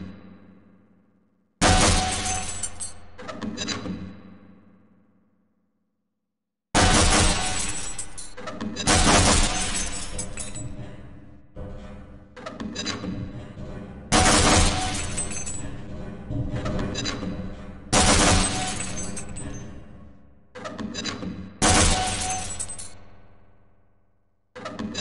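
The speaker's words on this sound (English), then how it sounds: "Certain targets will break only when hit by grenades" Grenades explode against breakable targets on the Half-Life hazard course, a series of loud glassy shattering crashes in separate bursts, each trailing off into clinking debris before the next blast.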